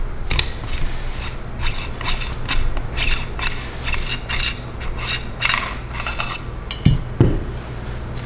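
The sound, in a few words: unscrewing reverse-threaded barrel shroud of HDM 1050 air rifle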